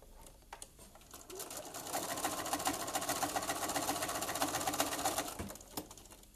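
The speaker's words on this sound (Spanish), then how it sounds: "estoy cosiendo las dos piezas más la guata más la tela de atrás" A sewing machine stitches through four quilt layers of fabric and batting, a quiet, rapid mechanical whirring run that starts, holds steady for a few seconds, and then stops.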